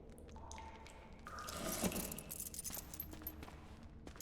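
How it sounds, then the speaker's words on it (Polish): A small key working shackles in The Witcher 2: brief metallic jangles and clicks in a quiet room, peaking midway then settling into faint rattles. "Kluczyk."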